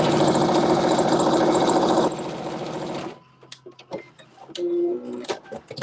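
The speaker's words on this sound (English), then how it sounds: "I'm just gonna do an edge stitch to seal the pocket flat closed on top" A sewing machine runs a steady, fast edge stitch about 1/8 inch from the seam to close a garment pocket flat, a loud continuous whir for about three seconds, then stopping into quiet handling clicks and rustles.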